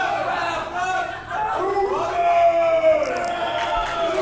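Wrestling crowd at a Great 'Merican Bash event chanting and roaring for the Tombstone Piledriver finisher, a dense sustained wall of voices with rising shouts.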